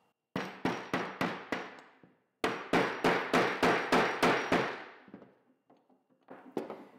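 A bearing is tapped into a FLO bicycle hub: sharp, evenly spaced hammer taps, four in a quick run, a pause, then about eight more, close and crisp, ending in a few lighter knocks.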